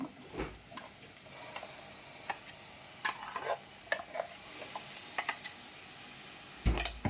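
Gongura chutney is stirred into fried onions in a pan, a soft sizzle running beneath irregular spoon scrapes and knocks that pick up in the last second, with no talking.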